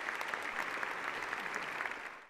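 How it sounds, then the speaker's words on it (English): Colleagues in the U.S. House chamber applaud Representative Gabrielle Giffords with sustained, dense clapping from a large room, steady throughout and fading at the end. "she was greeted with a round of applause and kind words from her colleagues"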